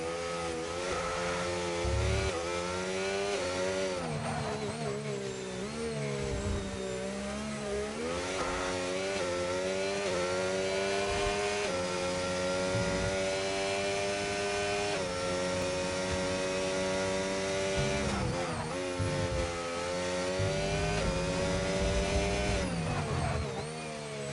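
A McLaren race car engine from a racing game drones loudly and steadily, its pitch climbing and dropping through gear changes and corners over a continuous lap, with no talk.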